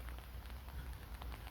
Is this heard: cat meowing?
no